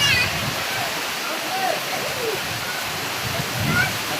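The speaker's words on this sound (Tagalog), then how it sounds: "Ang lakas ng ulan." Heavy rain pours down steadily, a dense, loud rushing wash with splashing and runoff, close and continuous with no speech.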